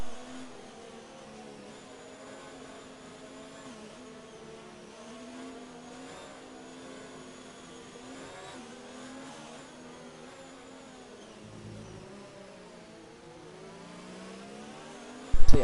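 Formula 3 cars in the Elite Vortex Racing video game at Azerbaijan drone past with wavering, rising and falling engine whines. A sharp burst comes at the end.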